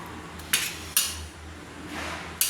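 A spoon clinks against a dish while ghugni is eaten, three or four sharp metallic taps spaced about a second apart over quiet background, with no talking.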